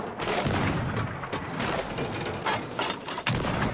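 Ship cannons firing during a naval battle in Sea of Thieves, a continuous barrage of booms and thuds with no gaps, loud and close.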